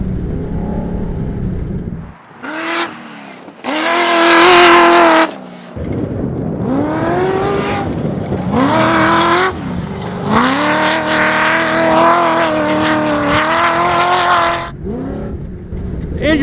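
A 650hp V8 off-road racer revs and accelerates hard, its loud, deep engine climbing through gears with brief lifts and gaps between pulls, close up and dominating throughout.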